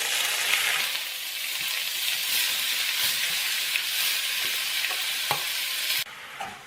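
Taro leaf thoran is stirred and fried in a pan, giving a continuous close sizzle with scraping utensil strokes and occasional taps, ending with a quieter hiss as the heat eases.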